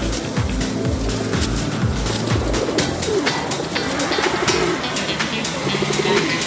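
Racing pigeons coo in low repeated murmurs, close by, overlapping with sharp fluttering and tapping noises and a faint hum in the background.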